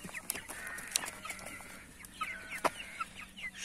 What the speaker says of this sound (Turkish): bunlar artık kocaman tavuk horoz oldular.